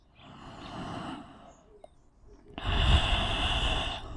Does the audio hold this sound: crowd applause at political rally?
no